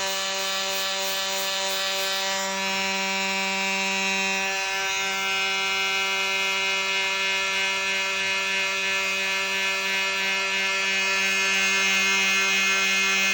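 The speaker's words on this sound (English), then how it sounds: "So we're just starting with a 240 grit on here on the lowest setting and taking off that excess material" Sandpaper of 240 grit pressed against a spinning turned-wood lidded box on a lathe at its lowest speed, a steady continuous rubbing whine with a constant motor hum throughout and no talking.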